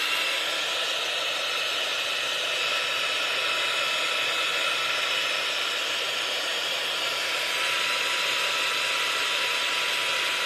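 A dryer blows steadily on a mixed media craft card for the whole stretch, a loud, even whooshing hiss with no breaks and no voices.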